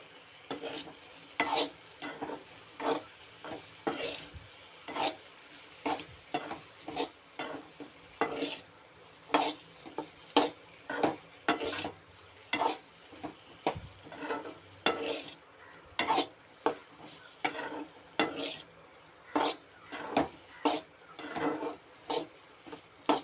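Okra stir-fry being stirred and tossed in a pan with a spoon, steady rhythmic scraping strokes over a continuous sizzle of frying, close and fairly loud with no talking.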